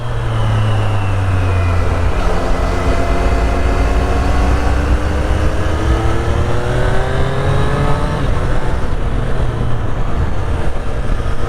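A Triumph Street Triple 765 RS motorcycle is ridden with a loud engine drone that rises and falls through gear changes under rushing wind, continuous and close.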